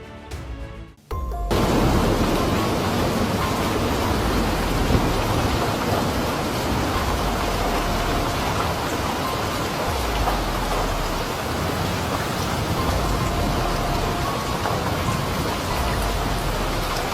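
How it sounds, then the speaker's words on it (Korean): Heavy rain pours steadily during a thunderstorm with hail in Tongchuan, Shaanxi, China, a dense, loud and continuous hiss of water striking surfaces with no voices. "큰 비가 내리고 번개가 치는 가운데 우박이 내리면서 지면에 두껍게 쌓였습니다."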